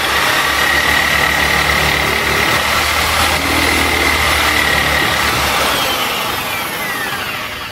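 Buffing polisher spinning up to clear a clogged pad while restoring a painted boat hull finish, a loud, steady motor whine and whir running without a break, easing slightly toward the end.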